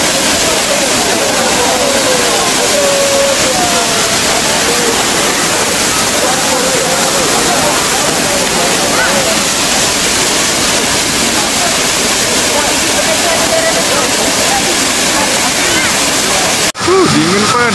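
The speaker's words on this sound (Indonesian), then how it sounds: "Yang luar biasa nih air terjun Cikulikap ya." Sikulikap waterfall in Berastagi, a loud, steady roar of falling water filling the whole clip, close and unbroken.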